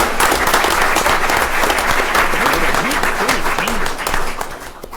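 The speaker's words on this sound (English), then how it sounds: "Let's give all of our parade winners a big round of applause." An audience at a city council meeting applauds parade winners with loud, sustained clapping that fills the room, a voice talking faintly underneath, and the applause fades out at the end.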